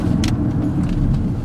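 A truck going by on a road in Canada, heard from inside a moving vehicle as a steady, fairly loud low rumble with faint brief clinks over it, no talking.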